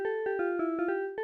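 A 1990 Yamaha synthesizer with its dual voice switched off plays a single, undetuned tone as a quick run of about seven short, evenly spaced repeated notes, clear and steady.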